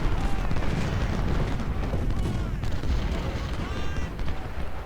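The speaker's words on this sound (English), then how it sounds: "our guns are delivering massive fire" Massed Civil War cannon fire at the Second Battle of Bull Run in the game Ultimate General: Civil War, a dense continuous rumble of overlapping booms and blasts with crackling musketry, voices shouting faintly under the barrage.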